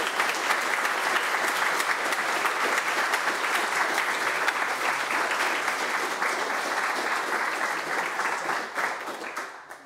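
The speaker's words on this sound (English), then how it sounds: "So round of applause for the 3rd Student Botany Festival." A round of applause at a student botany festival, dense continuous clapping from a gathered audience held at steady strength for about nine seconds before tapering off at the close.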